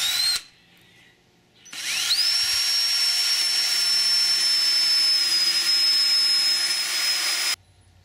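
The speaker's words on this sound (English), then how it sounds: "Drill a pivot hole." A power drill whines briefly, stops, then spins up again and runs at a steady high pitch for several seconds before cutting off, drilling a pivot hole in an AODE 4R70W transmission part.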